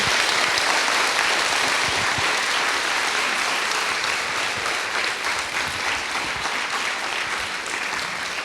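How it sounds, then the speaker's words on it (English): A large audience at a livestreamed conference on giftedness applauds in a broad, continuous wash of clapping that stays loud and even before fading slightly toward the end. "we give them all a very, very big applause"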